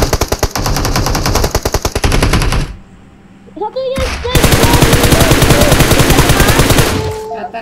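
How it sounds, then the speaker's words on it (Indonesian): Rapid automatic gunfire in the video game PUBG Mobile rattles loudly in long bursts with a brief pause, accompanied by a few words of speech. "Oh ada suara tembakan dia."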